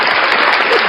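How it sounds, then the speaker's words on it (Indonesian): A brief burst of dense, loud applause played as a sound effect, steady and unbroken for under a second. "Efek tepuk tangan."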